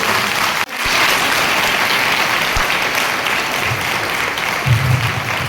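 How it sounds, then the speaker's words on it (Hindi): A church congregation claps together in thanks during a Thanksgiving Mass, producing a loud, sustained, even patter of many hands that continues throughout with no voices over it. "हम प्रभु को ताली बजाते हुए धन्यवाद दें।"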